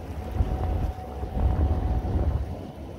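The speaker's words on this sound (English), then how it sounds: "here we are on course lock mode. As you can see, we're cruising along quite nicely" A boat driven by a Lowrance Ghost electric trolling motor cruises steadily on course lock. A continuous low rumble of water and hull is mixed with gusty wind buffeting the microphone, with no talking.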